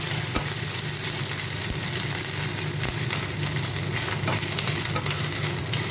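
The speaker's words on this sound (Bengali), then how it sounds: "পুরো লাল করে ভাজা হবে" Grated coconut fries in a pan for a Bengali chholar dal, giving a steady close sizzle with soft stirring scrapes and occasional low knocks throughout, no voices.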